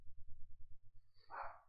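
A house dog gives a single sharp bark near the end of the moment, heard clearly over a soft, pulsing low background.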